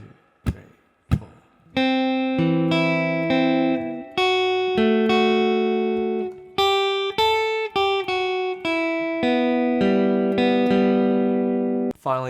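Lead guitar plays a riff line after two muted count-in strums: a steady run of clear, sustained picked notes with double-stops, close and loud, with no talking over it.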